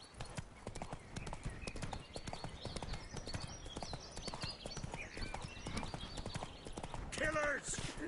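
Roach, a horse in the video game The Witcher 3, trots with rapid, rhythmic clip-clop hoofbeats close up, joined near the end by a brief whinny-like call, while voices speak over the hooves.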